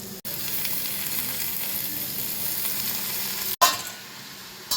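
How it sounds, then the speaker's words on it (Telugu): Spinach and moong dal sizzle steadily in hot oil in a pan, a continuous dense frying hiss with two brief dropouts and a louder burst near the end, no talking. "పెసరపప్పు ఆయిల్లోనే బాగా ఉడికించుకోవాలి."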